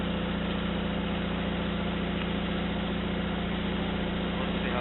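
A small tractor engine runs steadily in snow, a loud, continuous low chugging with a rapid regular pulse and no change in pace.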